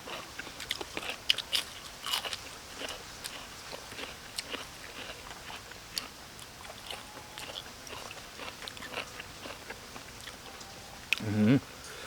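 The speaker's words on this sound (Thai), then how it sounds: "เคี้ยวกรึบๆละ" Close, crisp crunching and biting while eating sa suea, a Thai forest dish, with irregular crunchy chews repeating over several seconds, quiet and intimate, with a brief murmur near the end.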